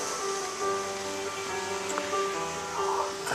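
A stream running high after a winter wind storm, steady broadband rushing of flowing water carrying on evenly throughout, near and fairly loud with no talk over it.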